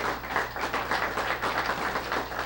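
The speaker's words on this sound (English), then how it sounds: "So please give them a great round of applause." A room full of people claps for honored students at a school-district Student of the Month ceremony, a steady, moderately loud patter of applause with a low hum beneath.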